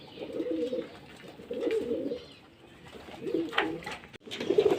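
Domestic pigeons coo in low, throaty bursts from close by while they drink water. The cooing comes in several uneven rounds with short pauses between them.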